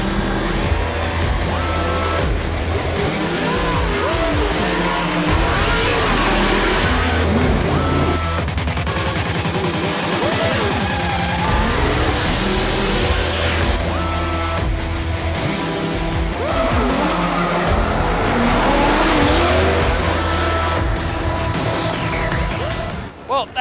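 Vaughn Gittin Jr.'s 2014 Ford Mustang drifting in competition, engine revving hard with long tire squeals and skidding, loud and continuous while crowd noise and commentary run underneath.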